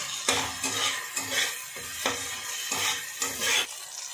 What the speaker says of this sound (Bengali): এখানে দেখুন আমাদের আদা রসুন কাঁচা লঙ্কা সবটাই কিন্তু ভাজা হয়ে গেছে।